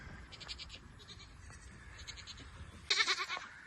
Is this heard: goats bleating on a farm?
yes